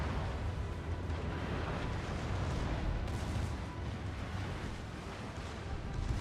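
Carnot cruiser in World of Warships firing high-explosive shells, a steady roaring rumble of booming salvos and blasts that runs without a break for several seconds, loud and dense.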